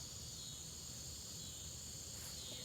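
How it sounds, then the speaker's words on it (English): Bunches of crickets chirping outdoors on a dewy evening, a continuous shrill high trill held steady throughout, soft and even with no voices. "Bunches and bunches of crickets."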